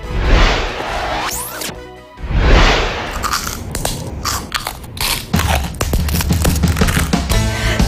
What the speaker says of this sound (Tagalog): Kagat dito, kagat doon.